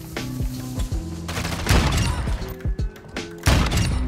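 Loud bursts of rapid gunfire from a game, several volleys of shots with short pauses between them.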